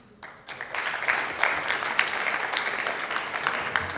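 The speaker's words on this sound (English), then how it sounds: "Give them a round of applause." An audience applauds at a book presentation for an author's "Garden City" project, a dense steady wash of clapping that swells in and holds for several seconds without talk.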